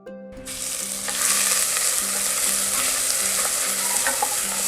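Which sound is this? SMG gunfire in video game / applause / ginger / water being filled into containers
ginger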